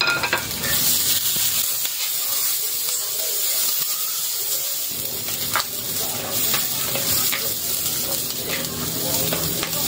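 Garlic and garnish ingredients sautéing in a pan for pan-fried tilapia, a loud, continuous close-up sizzle and hiss of frying with stirring scrapes throughout.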